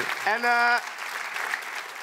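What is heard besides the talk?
applause for a guest on a talk show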